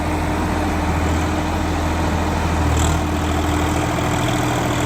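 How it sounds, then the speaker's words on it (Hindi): A Swaraj 744 tractor engine idles with a steady, low, heavy rumble that holds even throughout, loud and close, with a brief swell in the middle. "तो एक बार ट्रैक्टर स्टार्ट करो और दिखाओ थोड़ा सा डेमो।"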